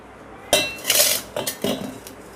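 Metal utensils clink and clatter against a pot or strainer while ground curry leaf juice is strained, in a few close, sharp bursts after a quiet start.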